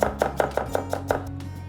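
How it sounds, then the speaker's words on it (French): A knife chops leftover pumpkin into small pieces on a board, seven crisp, evenly spaced cuts close by at a quick steady rhythm, with a low kitchen hum beneath. "Ce reste-là, je le taille tout petit."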